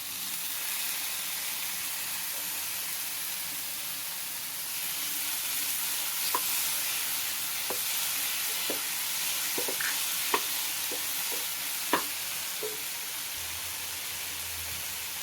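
Tomato fries with ginger and garlic in a pan for Sri Lankan fish sambol, giving a steady bright sizzle with several sharp clicks from stirring, close and without talk.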